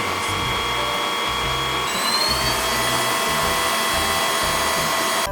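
A Dibea DW200 cordless vacuum cleaner runs with a steady motor whine and airflow hiss at a constant level, with a faint high tone that rises briefly partway through.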